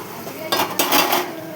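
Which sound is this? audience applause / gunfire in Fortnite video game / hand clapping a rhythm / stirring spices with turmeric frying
stirring spices with turmeric frying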